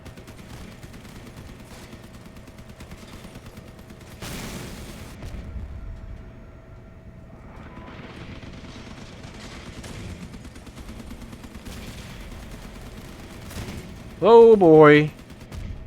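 Tank gun fire from a vehicle battle in Crossout, heavy booming shots over a rumbling engine bed, with a loud burst of impacts near the end; someone speaks briefly.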